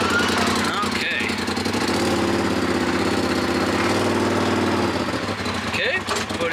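A Ford F-350 Powerstroke diesel flatbed truck idling nearby, a steady loud rattling clatter that holds the whole time, with people talking over it.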